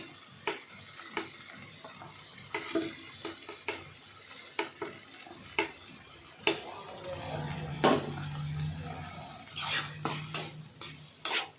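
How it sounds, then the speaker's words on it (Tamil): Bitter gourd and tomatoes being sautéed in a pan, with a spatula scraping and clinking against the metal in repeated strokes over a soft, low sizzle, close and fairly quiet. "பாவக்காவை சேர்த்து வதக்குங்க"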